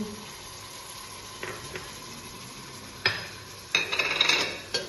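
Onion, carrot and garlic sauté in a pot for carp soup with a low, steady sizzle, broken by a few scraping stirs and clinks of a utensil against the pan.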